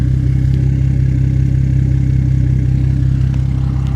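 A Dodge Durango Trackhawk idles with a raspy, deep tone, a steady low rumble that holds evenly and close throughout, with no talking over it.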